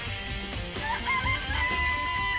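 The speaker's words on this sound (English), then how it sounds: "Remember there were some chickens in the chicken coop." Chickens clucking in a coop inside the Danganronpa video game, a short burst of clucks and squawks over a dense game soundtrack.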